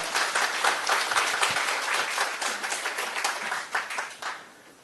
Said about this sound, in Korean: 장시간 수고해주신 시장님께 다시 한번 큰 박수 부탁드립니다